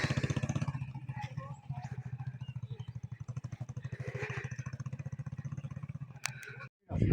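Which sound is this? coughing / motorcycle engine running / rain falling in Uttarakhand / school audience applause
motorcycle engine running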